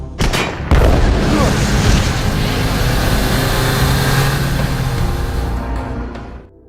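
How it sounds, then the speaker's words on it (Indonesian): A film scene in which a mafia boss's hideout is blown up: a sharp initial blast followed by a loud, sustained roaring rumble of fire and debris that slowly fades, with no speech. "Sebelum pergi, John meledakkan markas si bos mafia dulu karena ditakutkan ada beberapa orang yang belum tewas."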